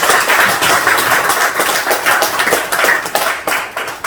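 A church congregation applauds to welcome a first-time visitor, a steady wash of many hands clapping at close range, continuous and fairly loud with no voices on top.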